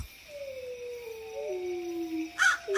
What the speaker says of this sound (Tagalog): Narinig mo ba yung malakas na alulong ng aso?